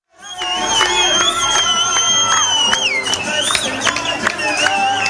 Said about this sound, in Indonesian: Pengungsi Palestina sorak-sorai merayakan pengumuman tahapan pertama rencana perdamaian Israel-Hamas